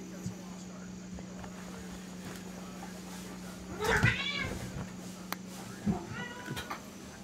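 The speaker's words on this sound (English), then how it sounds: "My cat is absolutely nuts at times." A pet cat meows indoors, two short, faint-to-moderate cries a couple of seconds apart over a steady low electrical hum, with quiet background noise.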